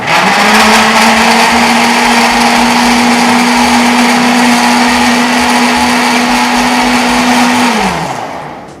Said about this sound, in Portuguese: Agora vai bater todo o liquidificador.